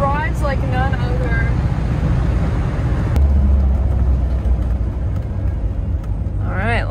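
A 1972 Corvette Stingray's engine running steadily, a deep continuous low rumble heard from inside the car, with people talking over it at the start and end.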